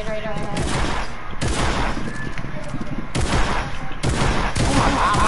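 Rapid drum gun fire in Fortnite's creative mode, continuous close bursts of automatic shots with brief pauses between volleys, loud throughout, with a voice talking over it.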